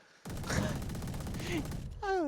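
The Odin machine gun in the video game Valorant fires in a rapid sustained burst, heard under a caster's voice, with a brief electronic trill at the end.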